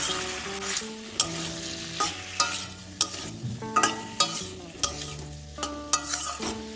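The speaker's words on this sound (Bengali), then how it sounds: "ভালোভাবে সব মশলাটা কষিয়ে নেব কষানোর সময় মশলাটা যাতে পুড়ে না যায় তার জন্য দিয়ে দিলাম সামান্য একটু জল সব কিছু ভালোভাবে আবার কষিয়ে নেব" Spice paste and vegetables sautéed in a pan with a little water, close sizzling under repeated sharp scrapes and knocks of a spoon against the pan at an uneven rhythm.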